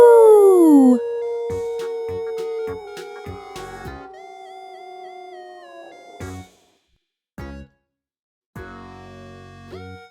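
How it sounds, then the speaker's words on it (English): A loud wolf howl in a cartoon forest setting, sliding tones that fade into tinkling chime-like notes and short gaps of silence, with no one speaking over it. "Oh my, that's a very loud howl."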